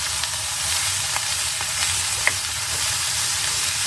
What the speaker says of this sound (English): This is fully cooked sausage, so I just need to get it in the pan, get it all heated up and constituted with the cabbage and onions.